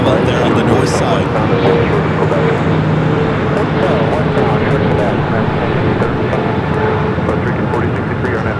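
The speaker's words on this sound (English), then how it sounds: "the 777 at 300 ER is your next heavy arrival there on the north side" A Boeing 777-300ER heavy jet arriving at LAX on the north side, its engines a loud, steady broadband roar that fills the whole stretch without letup, with radio chatter faintly mixed in.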